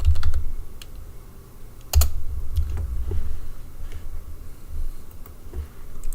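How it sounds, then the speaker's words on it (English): Someone types a message on a computer keyboard, with irregular clusters of close clicking keystrokes and a few sharper taps, heard alone without talking. "I'm typing you a message."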